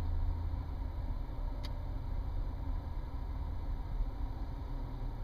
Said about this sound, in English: the only sound that you can hear inside this car is other cars and their radios